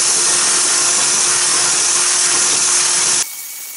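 Power drill fitted with a beater paddle mixing concrete for DIY candle vessels, a loud continuous whirring grind that cuts off abruptly near the end.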